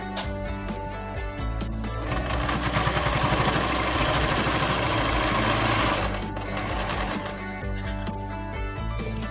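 Sewing machine stitching fabric for a cloth face mask, a fast mechanical whirring run that builds and then eases, with quieter motor hum before and after, close and alone.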